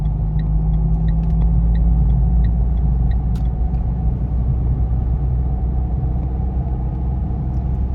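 A car drives through city traffic at about 60 km/h, its steady low engine and road rumble filling the cabin continuously, with faint faint ticking of an indicator-like click above.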